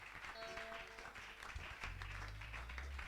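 A church congregation at a Sunday service applauds in a continuous patter of clapping, fairly quiet and steady, with a low hum and faint voices underneath.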